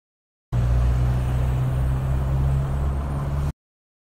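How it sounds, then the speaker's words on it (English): A passing car makes a steady, loud engine and road hum that starts abruptly and holds for about three seconds before cutting off. "Car."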